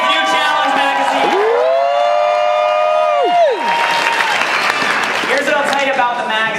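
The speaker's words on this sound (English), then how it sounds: "it's a loud applause" A room full of people bursts into loud applause, with whoops, a long whistle-like cheer and voices mixed into the clapping.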